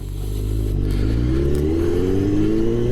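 Kawasaki Z900 motorcycle being ridden, its engine note climbing steadily as it accelerates through the revs, loud and close with a rising harmonic whine.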